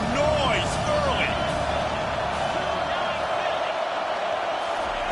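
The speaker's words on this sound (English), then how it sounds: "This crowd bringing the energy and noise early." A packed stadium crowd at a Georgia vs Alabama college football game keeps up a dense, steady roar. A commentator talks over it.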